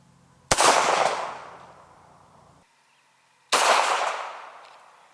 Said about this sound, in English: Next, I'm gonna shoot the 380 ACP out of the little Sig